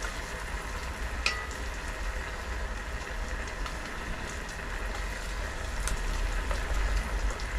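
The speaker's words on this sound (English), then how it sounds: "it's raining again, and the wind has picked up" Steady rain falling outdoors with wind beside a cabin where food is being cooked, a dense even hiss of drops with a few faint clicks and knocks, no voices.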